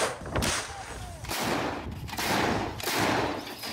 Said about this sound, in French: Avec leurs canons datant de l'ère soviétique